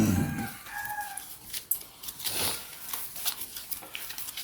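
Chickens cluck and a rooster crows nearby, a short loud call at the start followed by scattered clucks and background rustling.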